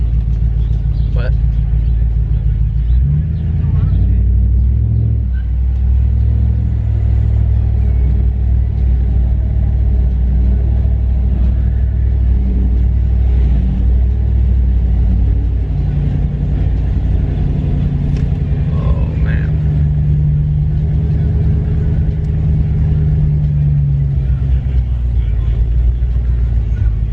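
A Hemi 5.7-litre V8 rumbles deeply and steadily through its loud exhaust while cruising through town. Someone talks over the low, constant drone across the whole stretch.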